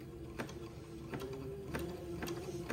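A sewing machine stitches slowly along lace on a baby wedding outfit, producing quiet, evenly spaced mechanical clicks about every half second over a soft motor hum.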